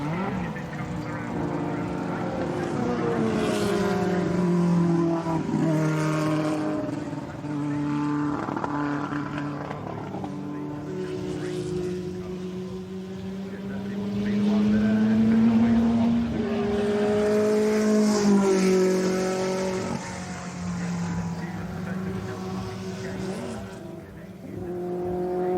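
Two Ford GT40 race cars cross the finish line at a historic circuit race, engines droning and shifting pitch as they pass close by, the sound swelling and fading over the stretch with no talk.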